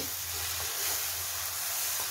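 Tomato puree frying with onion in a pan for methi paratha, a steady soft sizzle and hiss holding evenly throughout, close by with no voices.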